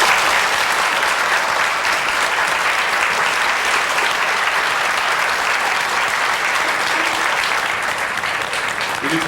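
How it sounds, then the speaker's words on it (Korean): A church congregation applauds four visiting guests who stand to be welcomed, sustained, even clapping from a large crowd, loud and uninterrupted for the whole stretch. "박수 부탁드리겠습니다"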